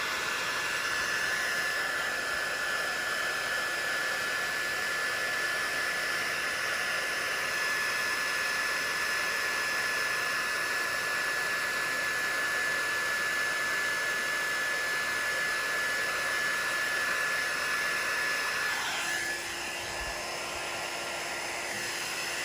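Small heat gun warming wax into the seams of a Filson waxed cotton jacket blows as a continuous close hiss with a thin steady whine, shifting slightly in pitch near the end, with no speech.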